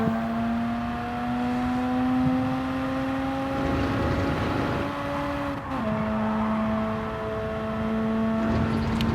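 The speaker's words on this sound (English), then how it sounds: "I feel like I could probably be revving out in third gear a little bit more as well" A Mazda RX7 engine in the Gran Turismo 7 racing game during a Nürburgring GP time trial holds a steady high-revving drone, dipping briefly at a gear change midway before climbing again, with no talking.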